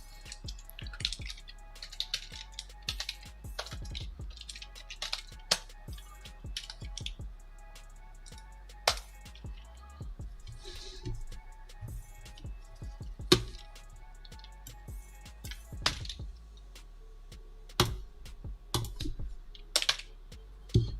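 Typing on a computer keyboard, with sparse, irregular clicks and keystrokes close by in a quiet room, sometimes in quick bursts and sometimes with gaps between them.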